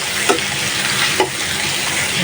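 Spices frying in hot oil for a hilsa fish curry with potato and tomato: a loud, continuous sizzle close by, with a few sharp stirring scrapes.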